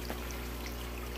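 Water pours steadily out of a brine shrimp container, a continuous close splashing trickle with no voices.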